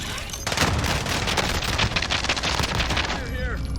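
Akimbo pistols fire in Call of Duty: Warzone as a dense, rapid stream of close, loud shots rattling on for about three seconds, ending with brief game tones.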